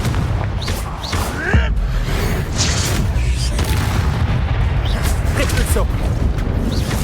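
A Confringo fire-spell blast in the Hogwarts Legacy video game, a dense roaring rumble of booming impacts with crackling debris, loud and sustained, under a voice.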